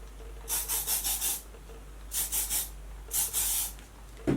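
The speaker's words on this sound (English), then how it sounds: "I'm just gonna go over it lightly with some hairspray" Hairspray is sprayed lightly over styled hair in three separate bursts, each a close, soft hiss made of several quick pulses with pauses between, no talk.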